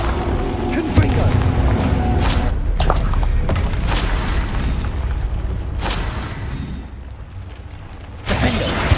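Confringo blasting spell explosions in the Hogwarts Legacy video game on PS5, heavy booming bursts layered over continuous battle noise, with loud sharp blasts recurring every second or two and a final burst near the end.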